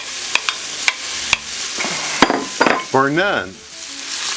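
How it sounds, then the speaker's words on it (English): Garlic and serrano chilies frying in a pan while being stirred: a loud, close sizzle with sharp clacks of the utensil, followed by a stretch of squeaky, rhythmic scraping. "I'm going to stir this up and let this cook for, just a few seconds."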